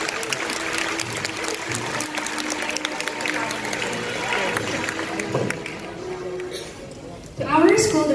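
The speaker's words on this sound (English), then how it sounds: "A round of applause, please." A school graduation audience applauds a senior high student's speech of gratitude, a dense, even patter of many hands with voices mixed in, ending in a louder burst.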